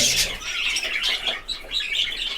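Lutino budgerigars squawk and chatter in a continuous, fairly loud flock of harsh calls, with no talking over them.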